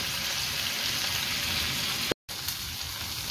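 Chapli kababs sizzle and fry steadily in oil in a pan, a dense, continuous crackle held close up, with a brief dropout near the end before the frying resumes.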